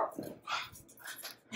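Dogs in a pet store give a few short barks and whimpers, mixed with nearby chatter from shoppers.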